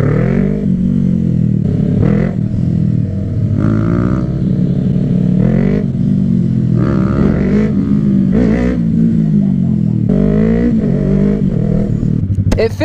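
Group ride of small motorcycles including a Honda CBR 125, a Yamaha YBR 125 and a Yamaha R3, engines droning steadily and close with rising and falling revs, no talk.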